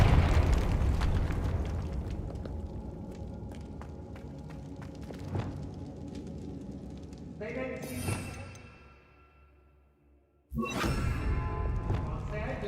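A Confringo blasting spell detonates in Hogwarts Legacy, a booming burst that rumbles and fades over several seconds before another loud blast cuts in; a voice speaks over the game sounds.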